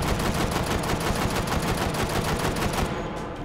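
A secret gun in the VR game Hot Dogs, Horseshoes & Hand Grenades fires a continuous, very rapid automatic stream of loud, close shots that runs almost the whole time before cutting off.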